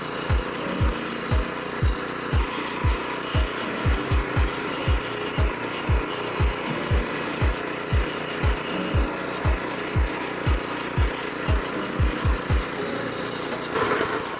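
A petrol DTZ 570BN/M2 walk-behind tractor tilling already worked soil, its engine running steadily with a strong, regular low thumping pulse throughout, loud and close, with no voices.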